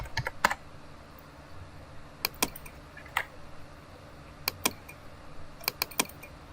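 Keys clack on a computer keyboard while typing text in Photoshop, short irregular bursts of crisp taps with gaps between, close and fairly clear, no talking.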